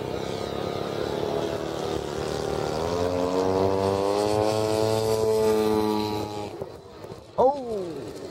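A Durafly T-28 Trojan RC model plane's electric motor whines up in rising pitch for a right-to-left takeoff, holding a steady buzzing tone before fading, with spectators speaking and calling out nearby.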